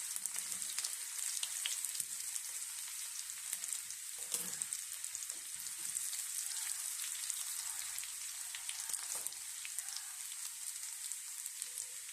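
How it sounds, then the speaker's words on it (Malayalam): Mustard seeds, shallots, dried chillies and curry leaves fry in hot oil for a Kerala-style chena thoran, making a continuous fine crackling sizzle like light rain, with faint stirring knocks now and then. "കടുക് ചെറിയ ഉള്ളി വറ്റൽമുളക് കറിവേപ്പില ഇത്രയും കൂടെ നന്നായിട്ട് മൂപ്പിച്ചതിന് ശേഷം"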